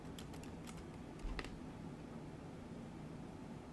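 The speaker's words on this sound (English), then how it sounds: "So we'll type in our password here." Password typed on a Mac keyboard: a short run of faint, quick key clicks early on over a soft steady hiss, then quiet background only.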